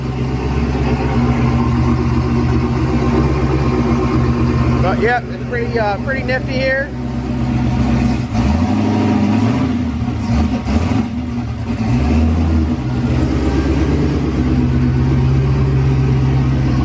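Turbocharged LS-powered G-body car with a 5-inch exhaust, its engine droning loudly and steadily with a brief rev and some whistling turbo sounds midway, while someone talks over it.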